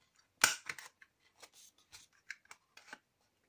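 Scissors snipping rounded corners on a paper flip book, a run of short crisp cuts close by, quiet and alone with no talk.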